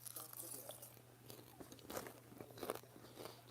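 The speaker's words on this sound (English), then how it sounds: "I'm sorry for the crunch in your ear, but I'm hungry. I'm snacking" A crunchy snack is chewed right against the microphone: soft, irregular crunches and bites over a low steady hum, fairly quiet overall.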